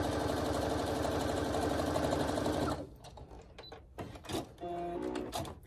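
A sewing machine stitching fabric strips together with a quarter-inch seam, a fast steady mechanical whir for about three seconds, then stopping, followed by soft handling noises.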